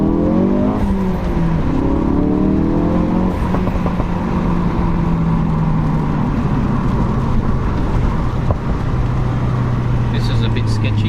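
A Ford RS engine revs hard and loud on a mountain pass, a steady roar with rising and falling pitch through gear changes, with a voice talking over it.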